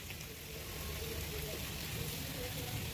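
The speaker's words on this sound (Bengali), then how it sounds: "মেটেগুলো ভেজে নেবো।" Mutton liver frying in mustard oil in a pan with turmeric, giving a steady, dense sizzle like rain on a surface that holds at an even level throughout, with faint low background noise beneath.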